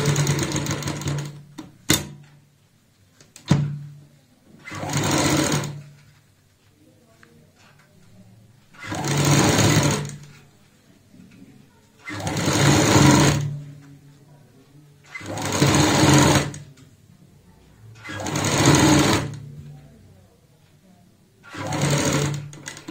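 Sewing machine stitches a kurti neckline over buckram in repeated bursts of rapid mechanical whirring, each lasting a second or two with short pauses between, close and loud, with quiet talk in the gaps.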